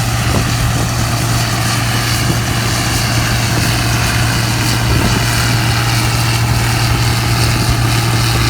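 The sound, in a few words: neighbor's small tractor engine running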